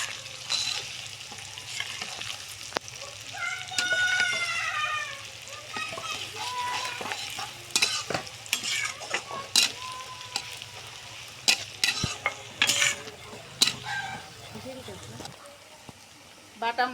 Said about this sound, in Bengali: রসুন থেতো করা দিয়ে দিলাম